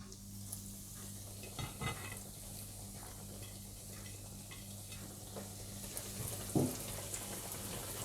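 Breaded chicken cordon bleu shallow-fries in oil over low heat, giving a steady, soft sizzle throughout. A few faint clinks sound near the end.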